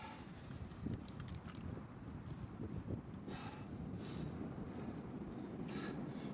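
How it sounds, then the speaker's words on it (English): Strong wind on a rugged Qinghai wilderness trek buffets and roars across the microphone in continuous gusts, rumbling low and loud throughout. "Just taking some shelter behind this rock. It's very windy out."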